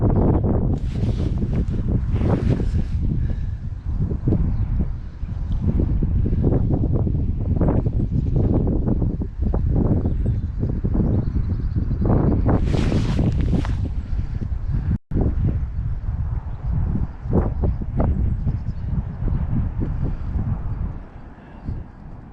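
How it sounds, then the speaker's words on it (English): Strong gusting wind buffets the microphone beside the River Thames on a wintry day, a continuous rough roar rising and falling in loud waves throughout. "windier in this past half an hour"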